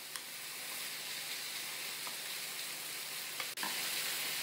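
Minced meat with onion and spices hisses quietly in a frying pan, a soft continuous sizzle broken by a couple of light scrapes and taps from the stirring utensil.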